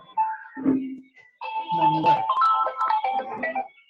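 A phone ringtone plays loud and close, a repeating electronic melody that starts, pauses briefly, then resumes and keeps going, with a short burst of background speech near its start.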